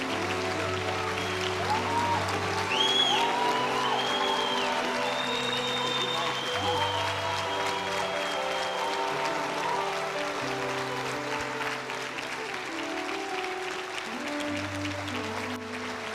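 A church congregation applauds the serving team during a conference service, sustained clapping from a large crowd filling the room, with background music and a voice speaking over it.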